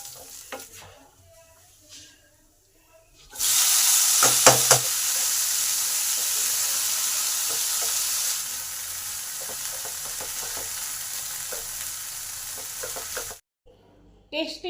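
Whole cumin seeds, two dried red chillies and grated ginger hitting hot oil for Bengali kochuri filling: a sudden loud sizzle bursts in after quiet clinks, crackles steadily with spoon stirs, then cuts off abruptly.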